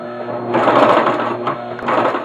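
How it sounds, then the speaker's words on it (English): A sewing machine stitches fabric pockets onto a wall pocket organizer in a short close burst, its motor whirring and needle chattering rapidly, rising briefly then steadying, with no talk. "I'm going to just stitch around the 3 edges and make them pockets"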